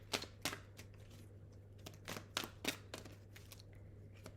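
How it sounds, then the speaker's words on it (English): Tarot cards shuffled by hand in a quiet room, a series of crisp, separate riffling snaps and soft slides in an irregular rhythm, close and fairly quiet over a steady low electrical hum. "I am going to shuffle and we're going to pull some cards."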